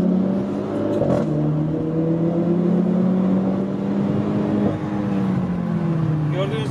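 A Renault Clio 4 RS engine pulls under light throttle, a steady mid-pitched drone that rises gently before a brief dip and slow climb again, heard from inside the car with faint road noise.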